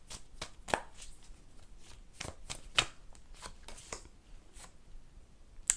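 A deck of tarot cards is shuffled close by, giving quiet, irregular riffles and soft snapping taps over several seconds.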